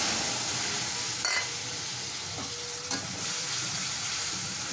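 Spice paste for a chana dal dish fries in a hot pan, giving a continuous loud sizzle and hiss with a couple of scraping stirs breaking through.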